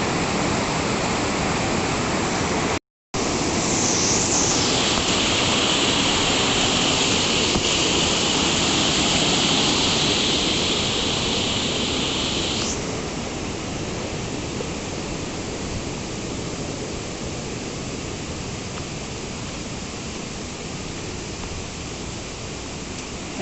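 Kuske Waterfall in Canacona, South Goa, India pours steadily in a heavy, continuous rush, close by, with a brief cut near the start and a slight easing later.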